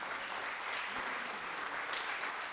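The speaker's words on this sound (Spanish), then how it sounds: "¿Ustedes no aplauden al Señor Dios de los cielos?" A church congregation applauds the Lord, a dense and steady wash of clapping from many hands filling the room with no break and no talk heard over it.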